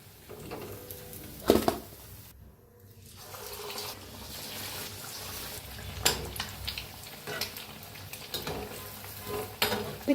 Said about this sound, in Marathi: सगळेच अंडे असेच तळून घेते मी